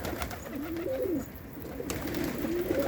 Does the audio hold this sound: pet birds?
yes